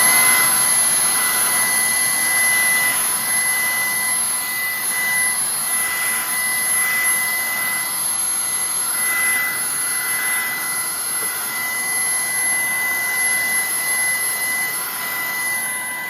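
A Ryobi 18V ONE+ cordless stick vacuum runs steadily throughout with a loud, close, high-pitched whine and airy rush that holds constant, with no talk over it.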